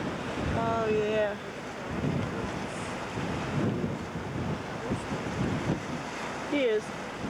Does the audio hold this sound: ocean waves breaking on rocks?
yes